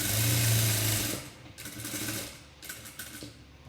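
An electric sewing machine stitches a blouse along the edge of its canvas lining, a loud rapid whirring run that stops, then shorter bursts of stitching with pauses between, close up.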